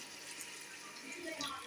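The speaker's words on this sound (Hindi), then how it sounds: "अब मैं इसमें 1 कप पानी का ऐड कर दूंगी।" Water pours into a pot of fried mutton being cooked for Kashmiri mutton rogan josh, a steady near splashing fill that lasts the short moment.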